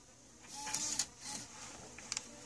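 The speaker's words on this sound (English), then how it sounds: "So you try to eject as normal" Tape eject mechanism on a Canon MV630i camcorder: a soft whirring motor run with a few small clicks and ticks, close and faint, with no talking.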